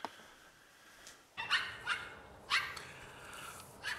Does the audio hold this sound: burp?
no